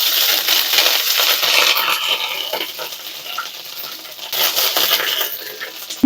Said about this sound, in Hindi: अदरक डाल देते हैं कुटा हुआ।